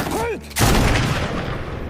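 A sniper rifle shot in a war film: a brief descending whine, then a loud, close blast that rolls into a long, sustained roar of echo and rumble.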